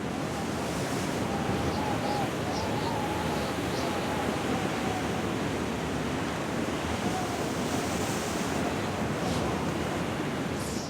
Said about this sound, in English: the ocean and the wind turn nastier